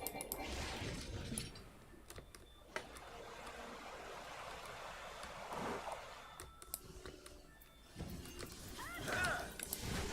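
Horses in Final Fantasy XIV, hooves clip-clopping with an occasional whinny amid a busy game soundscape of watery ambience, steady at moderate distance while a voice talks intermittently.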